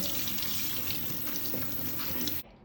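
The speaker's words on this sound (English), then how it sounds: "So give it a rinse after you've drained it." Tap water runs steadily into a sink while drained, soaked jackfruit is rinsed, a close, continuous splashing that cuts off abruptly near the end.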